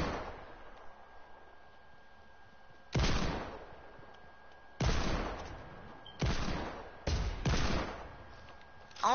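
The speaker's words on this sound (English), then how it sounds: "I'm gonna try out this new sniper." Sniper rifle firing in a video game, five loud, booming shots spaced a second or two apart, each with a short decaying tail over a quiet background.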